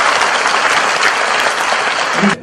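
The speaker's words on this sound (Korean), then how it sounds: "박수 한번 보내주십시오." A church congregation at an Easter union worship service applauds loudly, a thick continuous roar of clapping that stays level before cutting off abruptly near the end.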